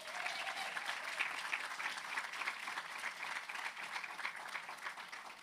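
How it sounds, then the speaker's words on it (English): An audience at a university teaching event applauds a student panel, a steady round of many hands clapping, fairly distant and even, fading slightly at the end. "can we just give the panel that we've just had, the student panel, a last round of applause?"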